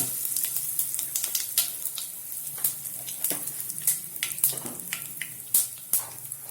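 Mustard seeds, cumin and asafoetida crackling in hot oil, a close sizzle dotted with sharp irregular pops and spits throughout.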